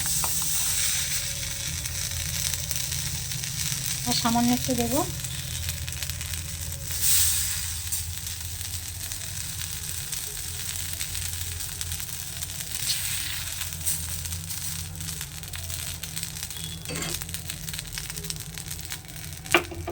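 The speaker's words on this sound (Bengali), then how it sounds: "এবারে এখান থেকে 1 হাতা ব্যাটার আমি কড়াইয়ের মধ্যে দিয়ে দিচ্ছি।" Chitoi pitha batter sizzles in a wok, a steady close hiss and crackle throughout with a few brief clinks, while someone speaks briefly early on.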